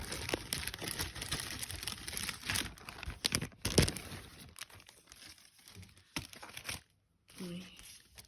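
A plastic packet crinkles and rustles up close, with sharp crackles and tearing sounds, interrupted briefly by a moment of silence near the end.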